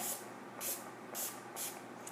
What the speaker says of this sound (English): So I've got my Tallulah here, I'm gonna spray it.